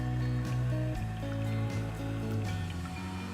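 Tap water rushes steadily through an Acqualive water filter, a continuous close splashing flow with no voices.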